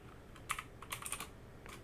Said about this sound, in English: So I'll just type in sample name here